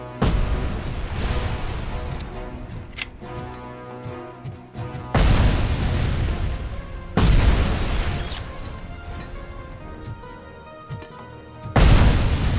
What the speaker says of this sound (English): Is he just throwing grenades at me?